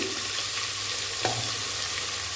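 Khichuri sizzling and frying in a pan as turmeric is added, a steady close hiss with a single stirring scrape partway through, no talk.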